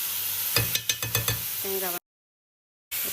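Ground coconut is stirred in a hot pan, with a run of quick scraping spoon strokes over a low sizzle and a faint voice, close by, then a cut to silence.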